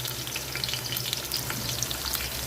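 Garlic sizzles and crackles steadily in hot oil, a close, dense frying hiss with small pops and no talking.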